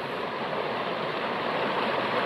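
Water pours out of pipes into a forest stream, a steady, full rushing and splashing that stays even and close throughout, with no voices.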